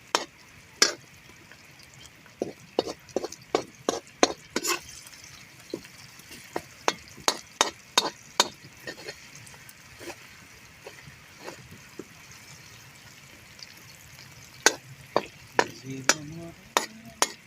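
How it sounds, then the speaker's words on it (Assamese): Onions frying in a pan and being stirred, with a steady low sizzle under many sharp scraping clicks of the stirring utensil, close and moderately loud, with no talking. "এয়া পিঁয়াজ পকিছে"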